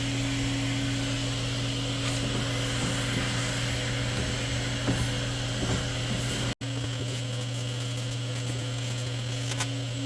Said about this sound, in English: Now I've got the central vac that's on the other side of the shop, the massive like 40-foot hose